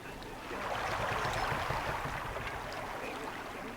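A swan-shaped pedal boat glides across the water of an amusement park in a video game, a soft, steady wash of water and gentle splashing that swells and then holds at a low, even level, with no talking.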